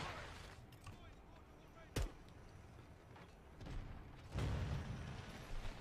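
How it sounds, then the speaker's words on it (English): Explosions and gunfire in a shooter video game, with a sharp blast, scattered distant thuds and a heavier rumbling boom, under players talking. "the amount of explosions and shit that just went off"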